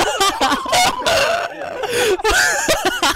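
Chickens in the Hand Simulator video game squawk and cluck loudly in quick repeated bursts, filling the whole moment with dense overlapping calls.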